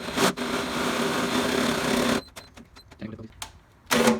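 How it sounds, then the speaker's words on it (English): A large drill bit bores through metal on a Jeep YJ during an on-board air system install, making a loud, steady whine for about two seconds, then stopping, followed by clicks, rustling and a final short burst of drilling. "When you're drilling with such a big thing,"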